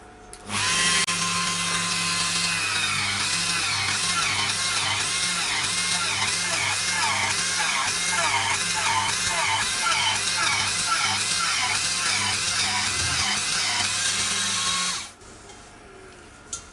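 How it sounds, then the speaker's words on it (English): A power drill whines steadily as it bores holes into a wooden bowl, a loud sustained grinding that runs for several seconds before stopping abruptly. "What I've got to do is drill a load of holes wherever I want them, completely random."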